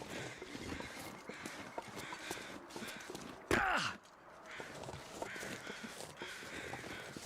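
Crows caw in The Long Dark survival game, with one loud close caw standing out over a busy background of crunching footsteps and faint calls.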